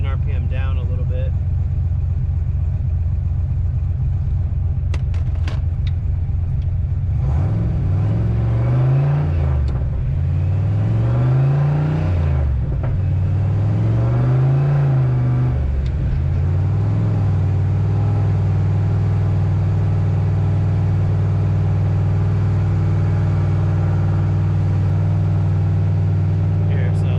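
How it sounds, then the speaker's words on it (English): A Foxbody Mustang fitted with an On3 turbo kit and Megasquirt runs loudly on a dyno, holding a steady drone while its revs rise and fall in several repeated sweeps before settling back to a constant hum. "I'm actually going to bring the engine RPM down a little bit."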